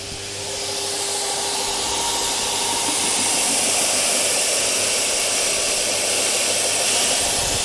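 Dust extraction vacuum in a woodworking shop spins up and roars with a steady, loud broadband whoosh that holds constant.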